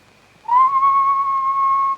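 A single steady whistled note held for about a second and a half, clear and close, with no other sound around it.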